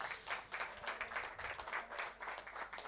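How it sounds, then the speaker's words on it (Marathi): Applause at a prize ceremony for a monsoon rubber-ball cricket tournament: a crowd claps steadily in rhythmic waves for three seconds, fairly distant and soft, with no speech over it. "एकदा सर्वांच्या जोरदार टाळ्या वाजवा"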